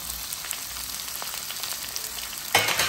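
Ivy gourd pieces fry in hot oil with tempering spices, giving a steady close crackling sizzle that jumps to a louder burst near the end, likely from a stir.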